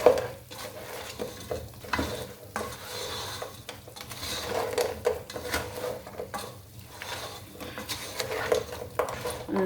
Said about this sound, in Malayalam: ചിക്കൻ ഇട്ട് കൊടുക്കുക. എല്ലാം കൂടെ ഒന്ന് മിക്സ് ചെയ്ത് കൊടുക്കുക.